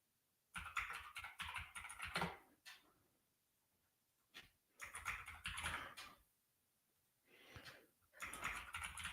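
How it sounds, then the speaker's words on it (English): Typing on a computer keyboard: bursts of rapid, close clicking keystrokes separated by short pauses, loud and alone with no talking. "I fucking hate this keyboard."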